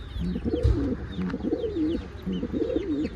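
Pouter pigeons coo steadily inside a coop, a near, repeated rolling coo in looping phrases with faint chirps from other birds behind.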